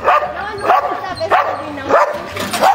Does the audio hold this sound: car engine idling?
no